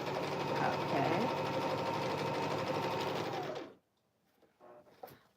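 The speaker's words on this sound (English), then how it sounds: "I've never used this machine to sew on" A sewing machine runs in a steady, loud whirring hum on a bouncing table, then cuts off abruptly, leaving faint rustles and small knocks.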